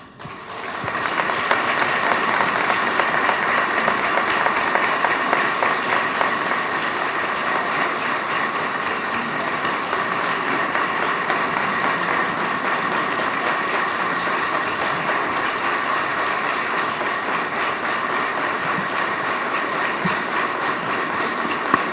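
An audience at a talk on the armed conflict breaks into applause that swells quickly and holds as a long, dense, steady roar of clapping, continuing for over twenty seconds.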